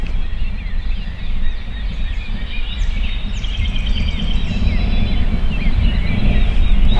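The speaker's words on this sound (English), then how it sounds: "I've heard a bird gobble a couple times" A distant wild turkey gobble rattles faintly through steady outdoor wind noise during Pennsylvania turkey season, a brief rolling call in the middle of the clip.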